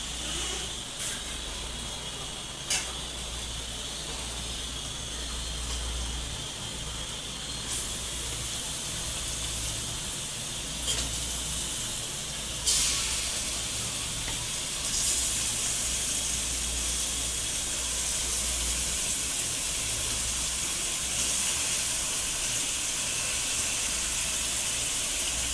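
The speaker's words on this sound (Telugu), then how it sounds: "ఉల్లిపాయలు బాగా మగ్గినాయి కాబట్టి ఇప్పుడు చికెన్ వేస్తున్నాం." Chicken pieces hit well-cooked onions in a hot pan for a bachelor-style chicken curry, setting off a loud, steady hissing sizzle that carries on evenly, with a few brief clatters along the way.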